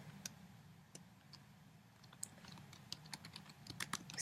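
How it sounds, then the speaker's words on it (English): Computer keyboard keys tapped in scattered clicks, faint and close against a low steady hum, picking up into a quicker run of taps toward the end. "I want you to hit the return key again and type audience and a colon"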